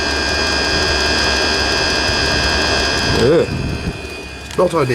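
A diesel heater clogged from running used hydraulic oil, now flamed out and blowing smoke, gives a steady loud fan roar that drops off near the end, with a brief voice speaking over it.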